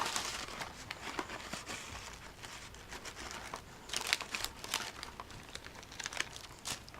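Paper being crinkled and pressed into a container while a candy bouquet is arranged, a steady close rustle with sharper crackles throughout and no speech.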